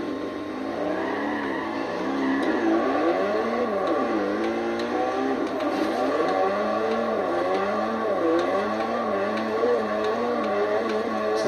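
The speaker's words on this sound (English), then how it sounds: "This is my RX-7, by the way." The rotary engine of a Mazda RX-7 drifting in the video game Forza Horizon hums and revs steadily, rising and falling in pitch over a constant whirring drone.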